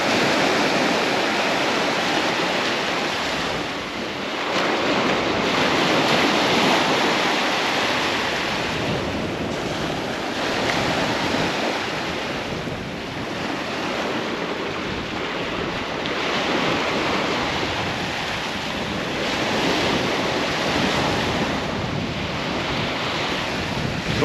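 Wind buffeting across a beach at Southbourne during fishing, a strong, continuous roar of gusts that swells and eases over surf-like noise, with no voices.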